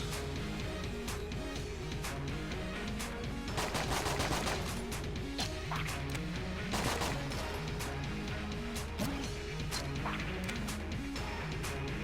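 Gunfire from the Excalibur gun in a video game, sounding as a dense stream of rapid shots with heavier bursts, steady and loud over busy game background noise, with no talking.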